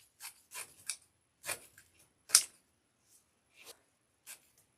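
Scissors cutting a length of ribbon for a grapevine wreath, a string of short crisp snips and rubbing sounds, close and fairly quiet, with pauses between cuts.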